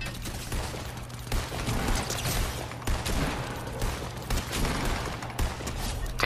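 Dense, continuous gunfire and explosive bursts fill a Fortnite battle where a grenade launcher is in use, loud and close throughout with no break, and no talking can be picked out.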